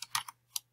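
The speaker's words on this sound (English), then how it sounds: "Click B on my keyboard." Keystrokes on a computer keyboard during a Photoshop portrait edit, three or four quick close clicks in under a second with brief gaps between them.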